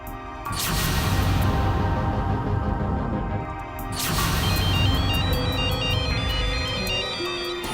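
A phone ringtone plays loudly in two repeated melodic cycles with a brief pause between, continuous and close.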